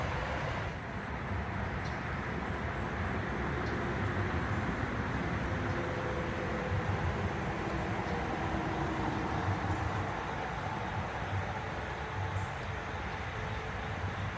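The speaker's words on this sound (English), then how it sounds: "you can hear the noise from the traffic up there" Steady, continuous road traffic drones from a roadway above a greenway trail by Torrence Creek, a broad unbroken roar holding evenly from start to finish with no talk over it.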